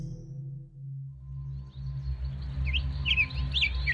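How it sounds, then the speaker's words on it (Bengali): Morning birds chirp and tweet in quick, bright calls that come in from about halfway through, over a low steady hum, fairly close and moderately loud. "ভোরবেলা ঘুম ভাঙল পাখির ডাক আর গরুর ঘণ্টার শব্দে।"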